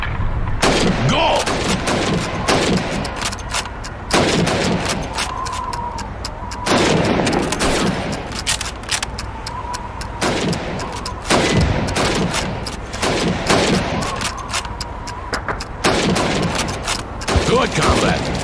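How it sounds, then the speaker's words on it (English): Repeated rifle shots crack out in a timed helmet-shooting drill at a Soviet Red Army training camp in the Call of Duty 2 video game, irregular close bursts over a steady background, with a voice calling out between shots. "You have 15 seconds to shoot the helmets."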